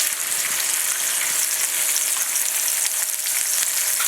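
An egg and a seasoned burger patty fry together in a pan, giving a steady, loud, close crackling sizzle that holds evenly throughout with no talk.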